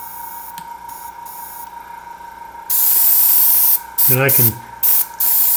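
Bursts of hissing spray as lacquer thinner is sprayed through a spray gun to clean it, several short blasts with brief pauses between them, close and loud, with a voice speaking briefly underneath.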